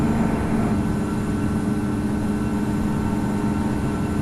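A jet airliner in the Infinite Flight simulator goes around at Chicago O'Hare, its engines giving a steady, loud, continuous low roar with a constant hum and no breaks throughout.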